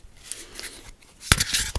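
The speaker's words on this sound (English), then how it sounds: "And I'm going to shuffle them a little" A tarot deck is shuffled up close, with soft papery rustles early on followed by a quick burst of crisp riffling card flutters and a final flick.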